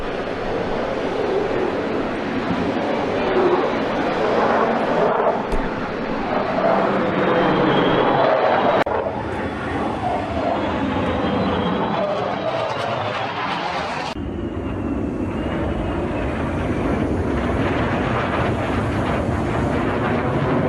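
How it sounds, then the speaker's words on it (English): Stealth bomber and four fighter jets passing overhead at an outdoor press event, a broad continuous roar that swells and shifts for about twenty seconds with crowd murmur and wind in the background. "a stealth bomber and 4 fighter jets flying overhead"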